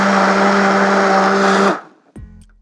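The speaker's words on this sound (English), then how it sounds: "So we're gonna go ahead and add these to the blender." A kitchen blender whirs loudly and steadily while pureeing chiles for mole sauce, then winds down and stops, followed by a brief clunk.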